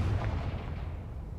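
A Confringo blast spell going off in a Harry Potter video game: a loud, deep, rumbling explosion that fills the short moment and holds steady without fading.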